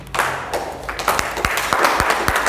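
A church congregation in Gabon claps and applauds with scattered, uneven hand claps and taps, some sharp and close, building into a loose burst of applause.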